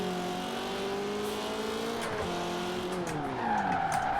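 Car in Forza Horizon 4 ripping along in second gear, its engine droning with steady harmonic tones that dip and climb as the tires squeal, loud and close throughout.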